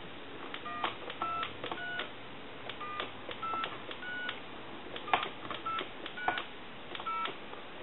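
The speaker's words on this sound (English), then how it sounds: "I want to go ahead and dial our numbers" Numbers dialed on a Thomas wood wall telephone under repair: a quick, faint series of about a dozen short touch-tone beeps, each with a click, spaced irregularly over a soft background hiss.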